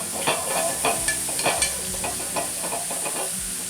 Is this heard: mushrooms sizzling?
yes